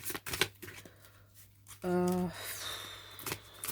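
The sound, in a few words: playing cards being shuffled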